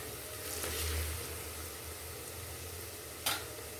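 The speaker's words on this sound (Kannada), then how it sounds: "ಇದು ಒಂದು 2ರಿಂದ 3 ನಿಮಿಷದವರೆಗೆ ಎಣ್ಣೆಯಲ್ಲಿ ಚೆನ್ನಾಗಿ ಹುರ್ಕೋಬೇಕು" Chili powder roasting in hot oil in a pan, a soft steady sizzle with faint stirring scrapes and one short sharp clink near the end, no voices.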